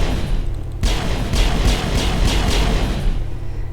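Rapid weapon fire on the Citadel space station in Mass Effect (2007), a run of about eight evenly spaced shots over a steady low ambient drone, close and fairly loud.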